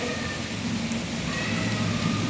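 Heavy rain pouring down steadily, a dense loud hiss of drops on surfaces with no pauses.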